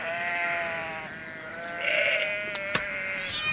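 Sheep bleating steadily in a long, wavering call that swells midway, fairly close, with a couple of sharp clicks near the end and no talk.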